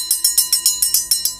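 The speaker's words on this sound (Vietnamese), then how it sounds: "Từ ngoài cổng có tiếng chuông dục dạ" A bell at a gate rings in quick, even strokes, about eight bright metallic strikes in under a second and a half. Each strike is loud and close and rings out briefly before the next.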